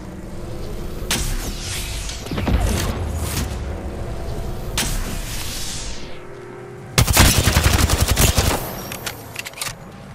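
Bursts of automatic gunfire in the Apex Legends solos mode, from rapid rattling volleys to a loud, dense closer burst near the end, with scattered single shots and booms between them.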